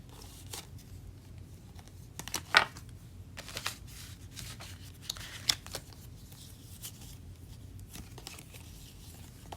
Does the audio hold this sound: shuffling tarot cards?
yes